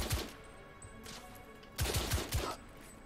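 Shotgun fire in the video game The Order: 1886 lands in quick booming bursts, a single blast at the start, then a tight cluster of several heavy shots near the end, loud and close.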